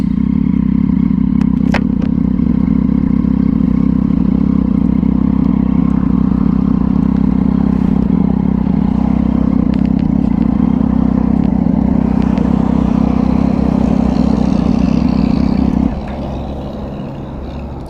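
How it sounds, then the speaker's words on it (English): A 2011 Triumph Street Triple 675R motorcycle engine, a loud, steady, close drone that holds for about sixteen seconds before abruptly dropping to a quieter idle-like rumble. "when you coming down off a high speed, that boop, boop, boop, boop, boop, boop, boop, that pop sound"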